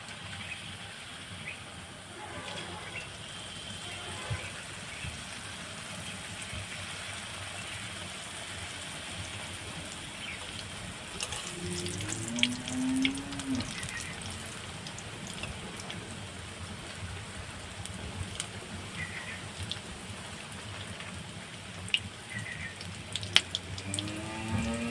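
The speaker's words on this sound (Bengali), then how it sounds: "তেলটাও গরম হয়ে গেছে। তো আমি তেলের উপর ছেড়ে দিচ্ছি।" Papad potato sticks fry in hot oil, giving a steady soft crackle and fizz that swells with denser popping partway through, heard close and alone.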